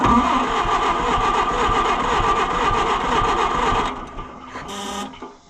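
An Oliver 550 tractor engine runs rough, steady and mid-pitched with an uneven, loping rhythm, then drops away near the end, leaving a brief higher whine and quieter idling.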